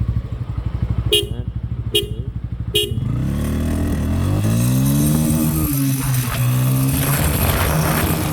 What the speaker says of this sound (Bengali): তিনটা হর্নের সাথে শুরু করি।